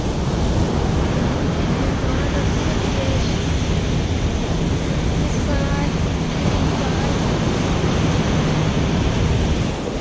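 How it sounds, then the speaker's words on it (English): Strong wind buffets the microphone over continuous rolling surf on New Smyrna Beach, Florida, a loud, dense roar without pause. "The wind's probably blowing about 15 miles an hour now."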